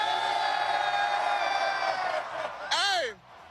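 A big indoor crowd at a Seattle sports rally roars and cheers steadily, with a loud whoop rising near the end before the noise drops away.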